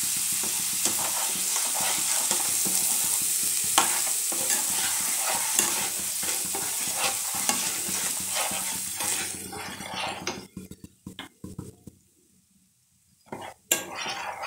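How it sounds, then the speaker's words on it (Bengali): Ground spices (chili, turmeric, coriander) sizzle in a pan for a village-style fish curry while a utensil stirs and scrapes in quick repeated strokes, loud and close, before the frying drops away near the end. "এটা আমি একটু ভালো করে কষিয়ে নিই"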